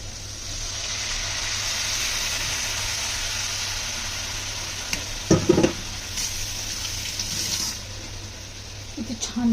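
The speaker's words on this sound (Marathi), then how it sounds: "असं हे थोडंसं फ्राय करून घ्यायचं" Food sizzles steadily in a hot pan with tamarind pulp, a broad loud hiss that carries throughout, broken by a few clattering stirs of a spoon against the pan near the middle and end.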